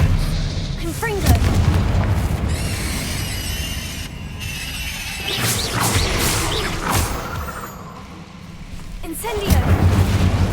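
Booming blasts and crashes from Bombarda and Confringo explosion spells in the Hogwarts Legacy video game, several heavy impacts in rapid succession amid a busy, loud game soundscape, with a voice calling out at points.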